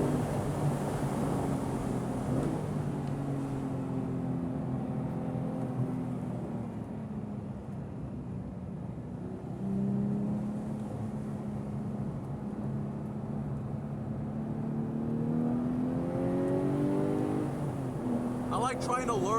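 A stock manual Porsche 911 991.2 GT3 runs on track, its engine droning steadily with rising and falling pitch as the revs climb and ease off, loud and continuous throughout.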